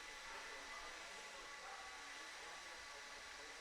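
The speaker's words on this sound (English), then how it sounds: "We should only be blowing off our section and putting the blower down." A blower clears a dirt race track with a continuous loud rushing roar that holds steady throughout and sits alone without any talk over it.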